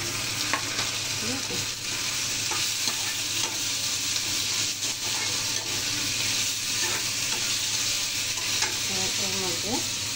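Lightly browned onions fry in a pan as spices go in and get stirred, a steady loud sizzle with scattered scrapes and clinks, and a voice briefly heard.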